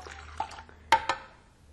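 Water splashes and drips into a stand mixer bowl holding meringue powder, a few short bright pours and droplet hits close by, with a louder splash near the middle.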